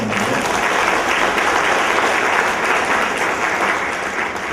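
Audience applause at a school Teachers' Day debate, steady and fairly loud clapping from a crowd that holds throughout and eases slightly at the end.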